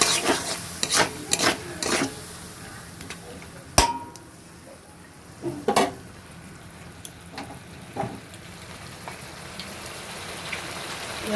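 Chili chicken with chicken sauce stirred in a pan for a gravy chili chicken: a sizzling hiss underlies scattered scrapes and clinks of the spoon against the pan, close by, with irregular sharp knocks.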